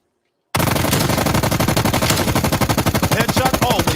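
Rapid, sustained automatic gunfire from a weapon in a zombies video game, a loud continuous burst starting abruptly after a brief silence and running without pause.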